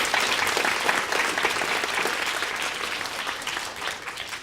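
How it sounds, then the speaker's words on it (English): Audience applause for a teacher receiving the ExCEL Award at a Hazelwood Elementary event: steady, dense clapping from a sizable crowd that holds at an even level for the whole stretch, with no talk over it. "let's give a round of applause to Ms."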